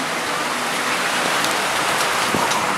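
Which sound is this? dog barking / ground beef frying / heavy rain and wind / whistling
heavy rain and wind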